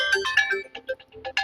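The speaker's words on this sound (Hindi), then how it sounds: "केकर फोन आवेला?" Mobile phone ringtone playing a short bright melodic electronic tune, close and clear, with repeated chiming notes and no talk over it.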